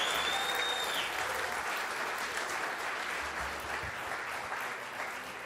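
A large audience gives sustained, dense applause for a special guest at a talk event, a steady wash of clapping that holds at even loudness before easing slightly toward the end.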